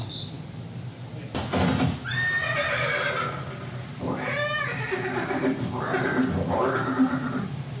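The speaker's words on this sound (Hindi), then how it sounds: "ये दृश्य महाराणा प्रताप और सुविख्यात स्वामी भक्त घोड़े चेतक के अंतिम मिलन का है।" A horse whinnies loudly several times in a depiction of Chetak, the warhorse of Maharana Pratap at Haldighati, Rajasthan, with hoof clip-clops and background sound between the drawn-out neighs.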